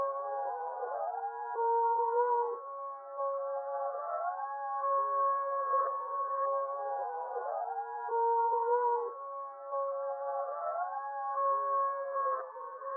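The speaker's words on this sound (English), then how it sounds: "I reversed it and then didn't actually add any effects onto that. Just straight up reversed it." Reversed vocal sample chopped into a beat without any added effects, its swelling, backward-sounding sung tones gliding in slow repeating phrases, steady and fairly quiet throughout.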